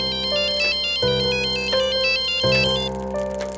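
A mobile phone rings for an incoming call, a loud, close electronic ringtone repeating a bright melodic pattern in short regular bursts, with no voices.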